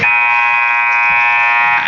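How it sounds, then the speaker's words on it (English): A loud, steady electronic buzzer at a basketball game blares continuously for about two seconds before tip-off, harsh and tonal, with nothing else audible. "that's the buzzer, so teams will get ready to tip off"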